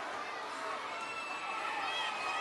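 Crowd cheering at a wrestling event in Morgan City, a dense, high roar of shouting voices, moderately loud and sustained, with a commentator talking over it.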